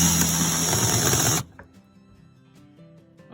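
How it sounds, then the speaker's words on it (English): A power drill drives screws into a 1979 Chevy Cobra RV roof, buzzing loudly and steadily for over a second before stopping abruptly, leaving faint background sounds. "And time to start sinking some screws."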